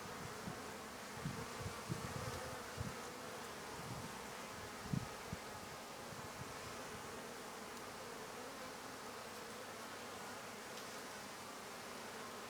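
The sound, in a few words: honeybees buzzing in a hive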